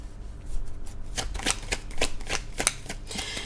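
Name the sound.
tarot cards being shuffled and drawn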